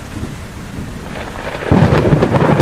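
A thunderstorm with rain in a cartoon story about birds sheltering in a big tree: steady rainfall hiss, then a loud, close rumble of thunder surging in partway through and continuing under the downpour.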